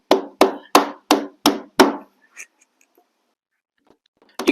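Six sharp hammer blows drive nails into wooden window trim on an 8x12 shed, landing at an even pace about a third of a second apart, then a few faint taps and near silence before two more strikes.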